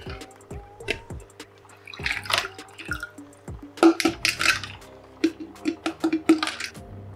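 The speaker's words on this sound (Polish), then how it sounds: "Ślimaczki wrzucam bez żadnej kwarantanny, bez żadnego przygotowania" Small snails dropped one after another into a home aquarium, giving a series of light plops and splashes with clinks in between, close and fairly quiet.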